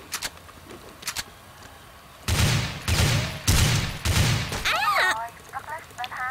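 Automatic gunfire in the online shooter CrossFire rattles out in several loud, rapid bursts over a few seconds, with game effects and faint talk around them.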